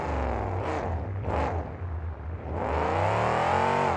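A monster truck's engine revs hard at Stafford Speedway, a loud, close roar swelling in two surges, dipping briefly, then climbing into a long sustained high-pitched rev, with no talking.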